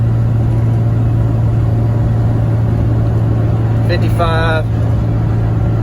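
A diesel pickup truck engine under full throttle drones as it climbs a hill, a loud steady rumble with road noise beneath someone talking in the cab.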